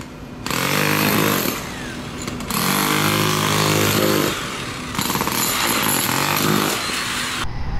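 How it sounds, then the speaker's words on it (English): Electric jackhammers pound from downstairs late at night, a loud, harsh hammering rattle that comes in three long bursts with short pauses, echoing and reverberating off the surrounding buildings. "Literal jackhammers, like actual, those not pneumatic, those electric ones, but they're jackhammers"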